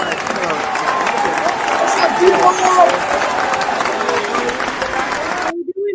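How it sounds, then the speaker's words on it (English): A cruise-themed stage show audience bursts into loud, sustained applause and cheering as guests are welcomed on stage, a dense crowd roar that cuts off abruptly near the end. "That's a lot of applause."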